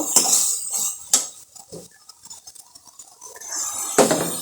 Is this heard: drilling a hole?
no